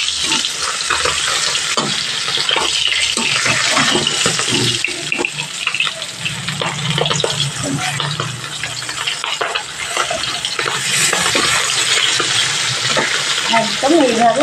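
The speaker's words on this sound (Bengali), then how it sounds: "একদম এইভাবে ভাজা হবে মাছটা" Pieces of bata fish fry in hot oil in a pan, giving a steady crackling sizzle with occasional clinks and scraping from a turning utensil, close up throughout.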